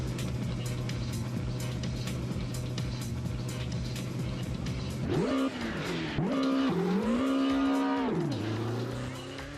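A BMW 320i touring car with a racing S42 engine drives in Assetto Corsa, holding a steady engine drone before revving up and down sharply through several gear changes, loud and close.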